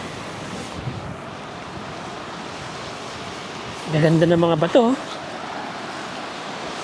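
Sea waves wash steadily over a rocky shoreline in Candelaria, Zambales, a constant broad surf roar with wind noise, while someone speaks briefly partway through.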